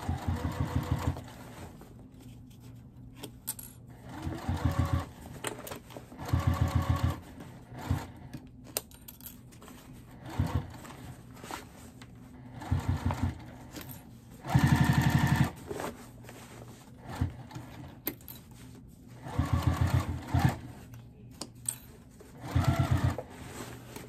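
A sewing machine stitches the lining of a fabric car trash bag with red bobbin thread in repeated bursts of rapid mechanical chatter, each run a few seconds long, separated by quiet pauses while the fabric is repositioned.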